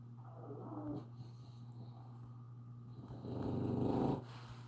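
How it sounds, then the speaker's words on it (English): A sleeping dog snores in slow, faint rasping breaths, two distinct snores a few seconds apart over a steady low hum. "it's one of Kevin's dogs snoring"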